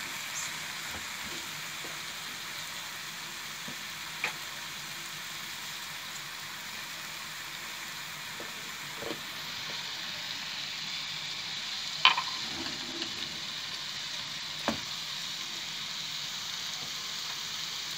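Vegetables simmer and sizzle faintly in a pan after a splash of water, a soft continuous hiss broken by a few light clicks and taps of a utensil.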